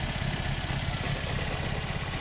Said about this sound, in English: I don't think it's running on 4 cylinders right now.